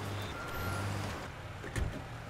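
A car engine in a video game hums steadily at low pitch, running continuously with a slight swell midway and a brief bump near the end, with no talk over it.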